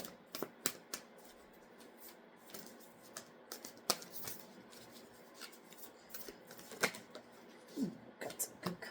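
Large Angels and Ancestors oracle cards being shuffled by hand: soft, quiet riffling and rubbing with frequent sharper flicks at an uneven rhythm, close by and without speech.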